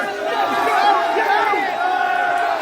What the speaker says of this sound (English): You hear the Muslims cheering?